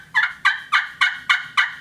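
A slate friction turkey call imitates gobbling, six evenly spaced rasping yelps in a quick steady rhythm, loud and close with nothing else heard.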